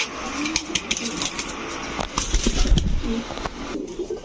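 Pigeons, among them an imported Blue Gold Archangel cock, coo in soft, rolling bursts close by, mixed with flutters, scuffling and other birds calling at a pigeon seller's.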